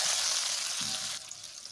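Water hits a hot wok for steaming cabbage, a loud broad hiss and sizzle that holds steady for about a second before dropping to a quieter simmer.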